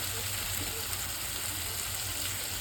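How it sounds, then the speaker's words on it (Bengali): Spice masala fries in oil for a pangas fish dish, a soft steady sizzle with faint crackling that runs quietly throughout. "এর সঙ্গে লাল লাল করে ভেজে নিচ্ছি মশলাটা, সুন্দর ভেজে নিচ্ছি"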